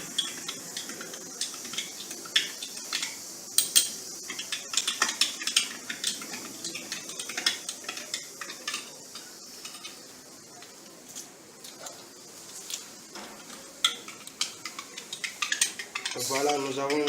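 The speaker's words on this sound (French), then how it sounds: "Et bien agiter afin que le chlorure de sodium puisse se dissoudre complètement." Spoon stirring sodium chloride into a water and dish-liquid buffer solution for a banana DNA extraction, rapid close clinking and scraping against a container, steady and repeated throughout with no talk.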